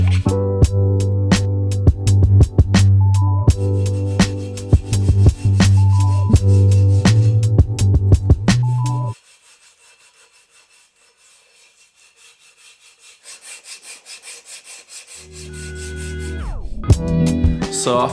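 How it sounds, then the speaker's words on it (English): Metal car wheel lips being worked with files and sandpaper after welding: loud, close, rhythmic rasping strokes, a quiet gap, then softer rubbing strokes building back up. "me and my brother went to smooth out the transitions and blend everything together using sandpaper"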